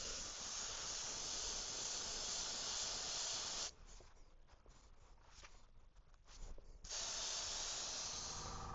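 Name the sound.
airbrush spraying paint onto a 3D-printed lure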